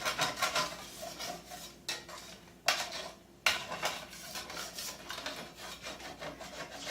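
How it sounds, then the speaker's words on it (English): A utensil scrapes browned bits off the bottom of a pan after it has been deglazed with water while cooking cilantro lime chicken, giving rough rasping strokes in bursts with short pauses, close and fairly quiet, with no talking. "Scrape all those bits off the bottom."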